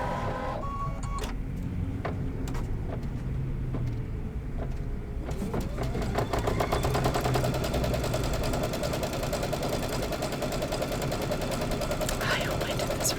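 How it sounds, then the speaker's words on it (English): An embroidery machine stitches out a batting placement line for a quilt block, a steady mechanical whirring and rapid needle chatter that starts about five seconds in and runs continuously and fairly loud. "now I'm going to let it stitch out"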